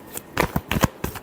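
Close, brisk riffles of a tarot deck during a final shuffle, four or five quick papery bursts bunched together, without any voice.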